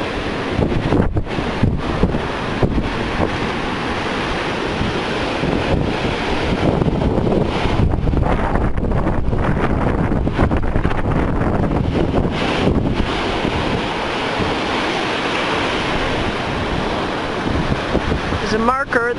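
At Pompano Beach, Florida, surf pounds the shore at high tide during Hurricane Sandy, with heavy gusting wind buffeting the microphone in a constant loud roar for the whole stretch.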